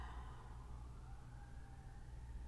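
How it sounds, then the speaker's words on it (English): Emergency sirens wailing somewhere outside, faint and distant, with a steady rising and falling tone that continues through the whole stretch and has no voices over it. "And the sirens are still going."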